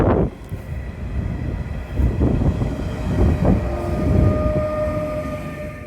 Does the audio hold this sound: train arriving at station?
yes